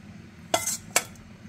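Tomato being stirred into chermoula in a pan, two quick scraping clinks of a utensil against the pan half a second apart, close and fairly loud over a faint background hum.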